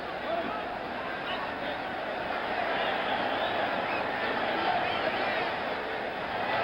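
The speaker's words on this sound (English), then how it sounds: "This crowd now chanting." A boxing arena crowd chanting between rounds at a Jimmy Young versus George Foreman fight, a steady dense roar of many voices that holds throughout under a commentator's talk.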